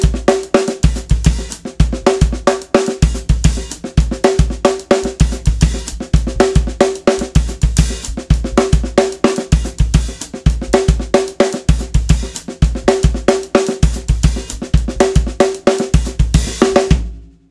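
A drum kit plays a continuous groove of kick, snare and hi-hat with flams, sharp repeated hits close and loud with no talking, ending abruptly.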